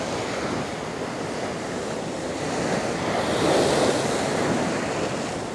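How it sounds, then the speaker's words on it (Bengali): Big sea waves crash and surge at Shankarpur beach in a steady, broad roar, with wind buffeting the microphone and a swell building loudest near the middle, no voices present. "অনেক বড় বড় জলের ঢেউয়ের ঝাপটা।"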